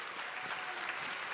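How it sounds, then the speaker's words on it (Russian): Applause from the audience at the Miss Russia 2019 pageant's intellectual contest, a faint, even wash of many hands clapping together, steady and fairly distant throughout. "Аплодисменты!"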